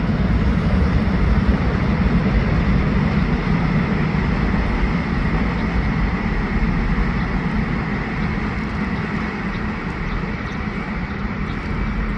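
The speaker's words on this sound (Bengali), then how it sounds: "একটা মেট্রো যাইতেছে।" A metro train passes near a park in hilly surroundings, producing a loud, continuous rumbling roar that holds steady for several seconds and fades slightly toward the end, with no voices.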